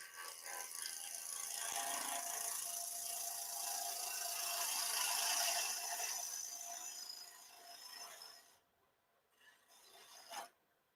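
A half-inch bowl gouge cutting a three-cornered wooden bowl on a lathe, a sustained rasping, scraping hiss for about eight seconds that then drops away to near quiet with a brief final scrape.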